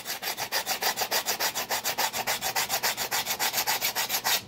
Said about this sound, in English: I'm rough sanding this with